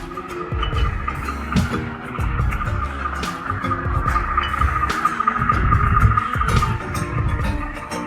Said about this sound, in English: The 600 horsepower engine roars loudly, pulling the giant blades up the challenging Humansdorp slope